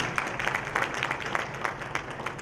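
An audience at a Federal Judicial Academy event claps steadily, a soft, continuous patter of many hands heard from a distance without talk over it.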